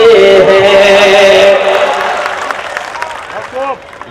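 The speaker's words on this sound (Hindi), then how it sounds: "ये तालियां अबू आसिम भाई के मुशायरे में कमजोर है।" Audience applause at a mushaira (Urdu poetry gathering) in Govandi, Abu Asim Azmi's event, comes loud and dense at first, then thins into scattered claps as a voice starts speaking over the fading sound.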